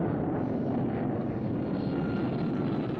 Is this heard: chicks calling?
no